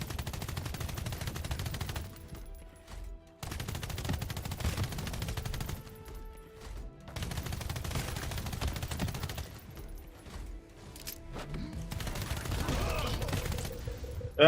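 Gunfire in the video game Pax Autocratica, rapid automatic bursts rattling in repeated volleys with brief pauses between, loud and continuous across the stretch.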